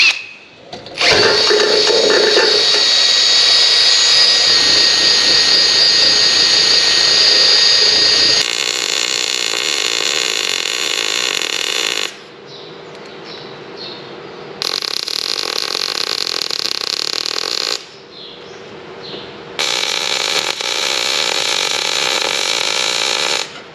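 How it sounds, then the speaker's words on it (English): Welding a crack on a back plate with a bead run over it, a loud close crackling and hissing arc that burns in several bursts separated by short quiet gaps, with no voices. "we're just going to try and clean that up and run a bit of a beater weld over it"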